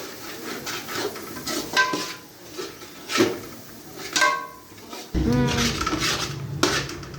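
A sweet mixture with cardamom is roasted in a pan while a utensil scrapes and stirs it, giving irregular metallic scrapes and rubbing strokes, a few louder clanks, then a denser stretch of scraping and sizzle near the end.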